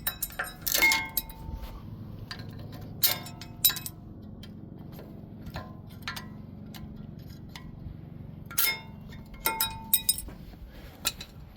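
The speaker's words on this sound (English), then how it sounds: "new rattle clips in from the back to the front, roll them in place" Metal anti-rattle clips pressed into place on a 2020 Ford Raptor's brakes give scattered sharp clinks and ticks, close up and moderately loud, separated by quieter stretches over a low steady background hum.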